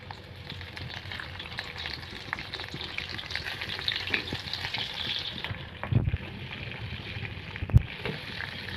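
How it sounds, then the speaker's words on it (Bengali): Fish sizzles steadily in hot oil, a constant crackling hiss with occasional scraping and clinks of a utensil in the pan. "মাছটা আমি এখন এটা ভেজে নিব"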